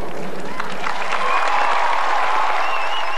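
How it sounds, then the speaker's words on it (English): Thunderous applause from a Denver theatre audience greeting Jerry Lewis, a loud sustained roar of clapping with crowd noise and a few shouts rising over it. "he received thunderous applause from the Denver audience"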